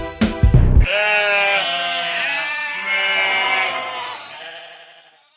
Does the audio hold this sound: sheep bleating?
yes